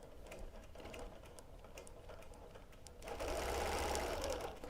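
A long-arm sewing machine runs steadily while free-motion ruler quilting, a continuous close mechanical whir with rapid needle ticking that grows louder and busier near the end.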